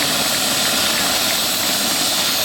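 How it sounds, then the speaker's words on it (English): A helicopter sits on a practice field behind a stadium press box, its engine producing a loud, steady turbine whine and broadband rush with no pauses. "helicopter has landed on the practice field behind the press box"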